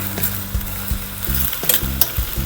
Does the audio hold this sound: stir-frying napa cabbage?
yes